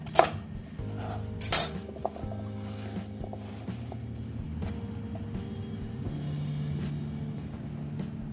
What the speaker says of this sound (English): Then we can put that right into our slow cooker.